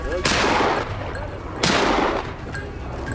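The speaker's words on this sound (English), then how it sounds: "rifle raised, aim fired. Bang!" Two loud rifle shots during a wild boar hunt, about a second and a half apart, each a sharp crack trailing off into an echoing decay outdoors.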